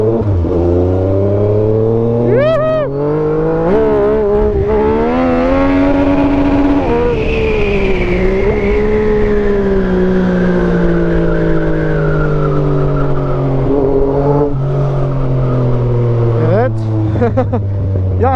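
A Yamaha MT-09 motorcycle engine revs loudly and steadily, its pitch rising and falling in long sweeps with a few sharp throttle blips, close by on a ride toward the Bostanlı seafront.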